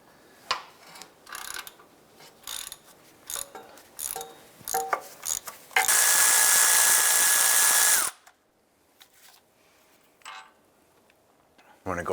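Ratchet work loosening a 17 mm rear engine mount bolt on a 2001-2005 Honda Civic: a run of quick clicking bursts, then a loud sustained broadband whir for about two seconds, followed by quieter scattered clicks, close and mostly alone.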